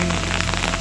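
Heavy rain pours down in a village, a dense, steady hiss of drops on surfaces, close and continuous with no voices.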